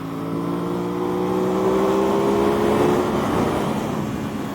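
An Aprilia RS660 sport motorcycle accelerating hard on a race track, engine note climbing steadily in pitch through a gear as it pulls strongly, loud and close with wind rush building underneath.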